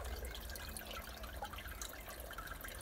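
Coffee liqueur is poured into a glass for a White Russian, giving a soft, steady liquid trickle and faint drips, quiet and close with no voices over it.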